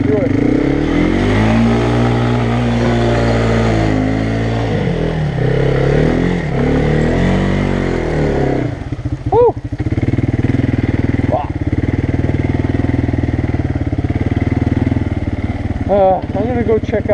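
An ATV engine revs hard with rising and falling pitch while riding into and through a mud hole on a trail, loud and close, with sharp throttle blips and voices talking over it at times.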